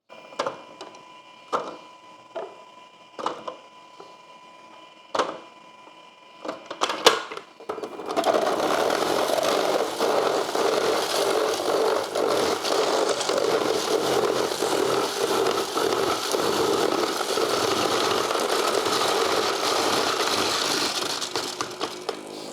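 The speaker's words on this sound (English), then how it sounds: "Okay, so now I'll juice on the M1 first and then move on to Hummingbird." A Goodnature M-1 juicer grinding produce, a few sharp clicks and knocks first, then a loud sustained whirring grind with vibration that continues steadily to the end.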